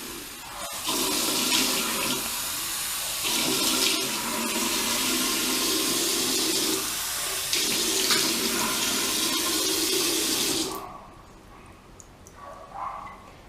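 Water runs steadily from a tap in bursts, briefly interrupted a few times, then stops abruptly near the end, leaving quiet room sound.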